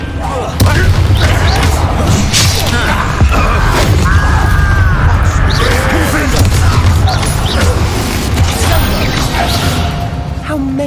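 A Confringo explosive spell blasts in Hogwarts Legacy, booming loudly through dense, continuous game noise and combat effects that run the whole time, with a voice cast over it.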